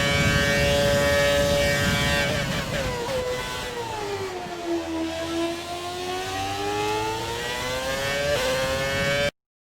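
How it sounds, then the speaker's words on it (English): A Formula 1 car engine in the video game F1 2020 whines loudly and steadily at the China circuit, its pitch dipping and climbing as it revs through gear changes, with no talking. "Not much else to say apart from that gorgeous engine noise."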